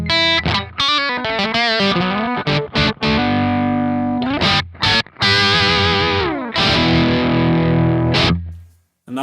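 A humbucker-equipped electric guitar played through a Triple Rectified EL34 amp profile on a Kemper, giving loud distorted chords and single notes in a steady, close riff that rings out and fades at the end.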